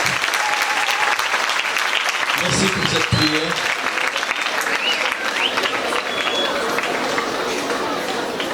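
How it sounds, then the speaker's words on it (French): A church congregation applauds for the prophet Jean-Marie, with sustained, dense clapping and crowd noise running throughout while a voice speaks over it in French. "est-ce qu'on peut applaudir pour le prophète Jean-Marie?"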